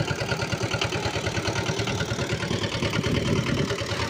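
A boat engine putters steadily while crossing a river, a close, continuous rhythmic chugging with rattling clatter and no pauses.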